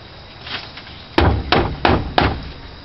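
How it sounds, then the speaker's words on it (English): A vacuum cleaner's plastic dust canister being emptied and knocked out, four sharp hollow thumps in quick succession after a faint rustle, close and alone. "we're going to dump the canister"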